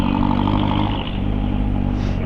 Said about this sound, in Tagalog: Pasira yung jeep eh. Ang ingay eh.